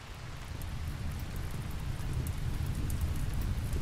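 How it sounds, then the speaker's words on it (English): Steady rain in the Rimworld video game, a continuous dense hiss with a low rumble beneath, moderately loud and slowly building, with no talking. "Oh, wonderful rain."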